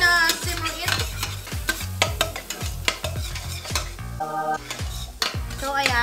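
Onions sizzling in a pan for carbonara, with repeated sharp scraping and stirring clatters of a utensil against the pan over a continuous fry, close and fairly loud.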